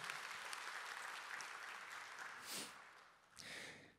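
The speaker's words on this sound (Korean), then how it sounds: "우리 세례 받으신 분들 너무 분위기가 너무 좋으시니까 박수로 한번 더 격려하겠습니다." A church congregation applauds newly baptized members at a worship service, steady clapping that dips and swells, with a couple of brief louder bursts near the end.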